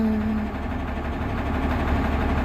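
A vehicle engine idles steadily in a traffic jam, a continuous low rumble with a constant drone and no gaps, close and fairly loud.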